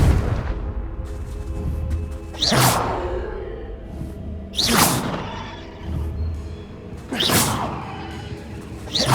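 In Hogwarts Legacy, the Confringo blasting spell is cast three times in a row, each one a rushing fiery whoosh that swells into a booming burst, spaced a couple of seconds apart over a low ambient game bed.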